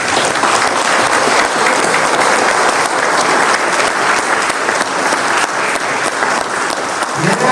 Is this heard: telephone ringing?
no